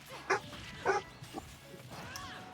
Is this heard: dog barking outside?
yes